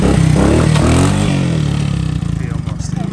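A Honda ATC200S three-wheeler engine revs and clatters up close while being ridden, loud and rising at first and then settling into a choppy, pulsing idle, with a voice talking over it.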